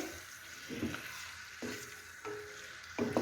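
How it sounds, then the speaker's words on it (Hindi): Chicken fries in hot oil in a karahi with a soft, steady sizzle, broken by a few clinks and stirring knocks. The sound is fairly quiet and close, with no talking. "ऑयल हमारा गर्म हो जाएगा तो हम इसमें चिकन डालेंगे। चिकन को फ्राई करेंगे।"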